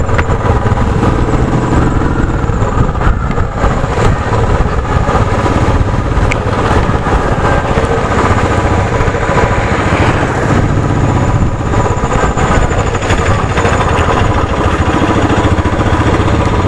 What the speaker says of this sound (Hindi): विंड का आवाज़ थोड़ा ज़्यादा आएगा क्योंकि मुझे वाइज़र खोलना पड़ेगा